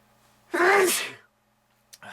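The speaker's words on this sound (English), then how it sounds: "I feel like I gotta sneeze" A single loud sneeze bursts out near the microphone, followed by quiet and a brief faint noise at the end.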